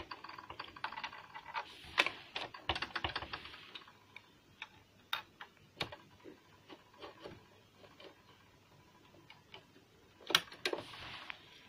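Small plastic and metal clicks and taps as a buttonhole presser foot is fitted onto a Brother home sewing machine, quiet, close and irregular, with a couple of sharper snaps.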